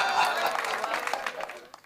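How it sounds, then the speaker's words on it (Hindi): An audience applauds at a Hindi comedy poetry gathering (hasya kavi sammelan), a dense burst of clapping that starts strong and gradually thins out over about two seconds. "आपकी तालियां यकीन जानिए थोड़ी सी कमजोर है"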